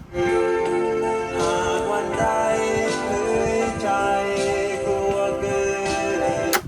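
Steady music plays throughout from a Technics RS-1W dual cassette deck, full and continuous with dense tonal layers, no voices over it.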